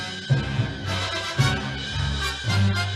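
The original orchestral credits theme for the 1958 film The Blob plays as dense, brassy ensemble music with accented swells roughly every second, loud and full, with no voices.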